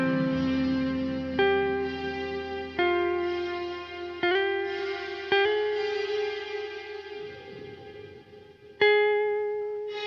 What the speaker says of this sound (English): if we increase the pre-delay, we'll notice a delay before the reverb kicks in